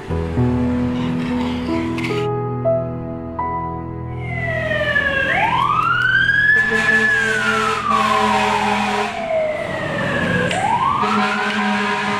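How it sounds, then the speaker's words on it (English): A loud ambulance siren wails up and down in long sweeping cycles, passing close by amid traffic noise. "Ambulance."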